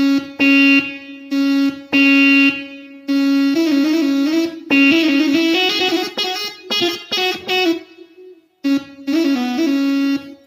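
A Roland XPS30 keyboard played harder with resonance raised for velocity, giving loud held notes and then a busier passage where the tone sweeps and shifts, ending in a brief pause before more notes.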